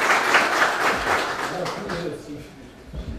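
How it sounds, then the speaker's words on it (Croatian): Applause for guests at a Bosniak public forum, a room full of people clapping steadily, loud at first and gradually thinning out, with voices murmuring underneath. "I jedan aplauz za ove naše prijatelje Gazave."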